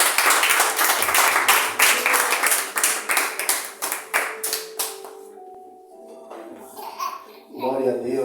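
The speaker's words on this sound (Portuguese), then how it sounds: "As palmas para o Senhor Jesus." Rhythmic clapping from a church congregation during a worship service, a run of sharp claps over the first five seconds that thins out, followed by scattered voices and a short musical tone at the end.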